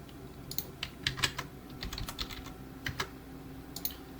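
Typing on a computer keyboard while entering values into HEC-RAS software, a quick run of close, crisp key clicks in uneven bursts with short pauses between them, heard alone.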